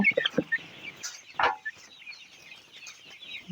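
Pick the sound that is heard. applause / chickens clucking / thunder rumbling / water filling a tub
chickens clucking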